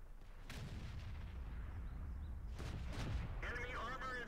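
A tank gun fires in the World of Tanks video game, a booming shot over a steady engine rumble, followed by a brief whirring game effect.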